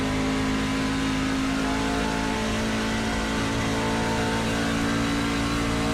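Truck engine in a sim racing game during an NTRL truck series race at Charlotte, a loud continuous drone that holds steady as the throttle is reapplied, with no talk.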